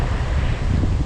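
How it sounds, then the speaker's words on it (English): Steady wind roaring and buffeting a microphone at a desert spillway, a continuous low rumble with gusty texture filling the whole moment, no voices. "wind's picking up, it's getting worse"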